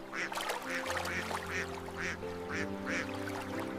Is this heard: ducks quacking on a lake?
yes